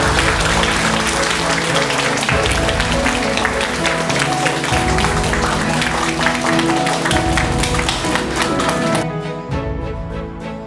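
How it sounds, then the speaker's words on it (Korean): An audience claps to welcome a guest to an interview, a steady loud wash of applause mixed with music that drops off sharply near the end. "박수로 맞아주시기 바랍니다."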